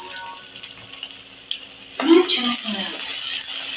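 Chopped onion and asafoetida hit hot oil in a pan while cooking a Maharashtrian eggplant and potato curry, bursting into a loud sizzle halfway through and crackling steadily after, with someone talking over it.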